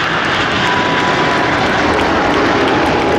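Jet engine roar from a Frecce Tricolori aircraft passing at the 2022 Marina di Massa air show, a loud, steady broadband rush that fills the whole stretch with no break.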